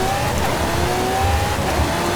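A Lamborghini Aventador in Forza Horizon 5 holds a high engine whine that climbs slowly, over a rough roar and rushing road and weather noise.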